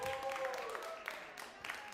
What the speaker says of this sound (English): Round of applause for this beautiful.